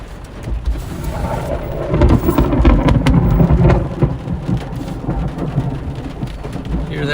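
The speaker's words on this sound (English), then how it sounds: "That was thunder." Loud rolling thunder during a Nebraska thunderstorm, a deep rumble building and peaking near the middle before fading, over constant heavy rain close by.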